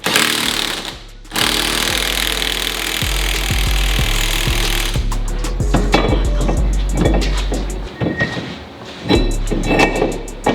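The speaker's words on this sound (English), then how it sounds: "for the axle nut, it's going to be about 6 ugga-duggas" An impact wrench hammers on the axle nut of a Mazda RX7 in loud, rapid rattling bursts. The bursts come in a few runs with brief pauses between them, close up, and no one speaks.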